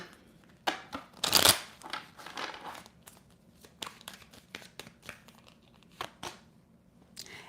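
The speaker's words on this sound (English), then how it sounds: "Hold on, let me shuffle." Tarot cards are shuffled by hand in quick riffles and taps, with a loud burst of flicking followed by scattered softer card snaps.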